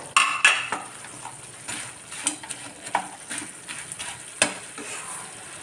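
Potatoes for honey chilli potatoes tumble into a frying pan and are stirred, giving close scraping and clattering against the pan over a light sizzle, in uneven bursts with pauses.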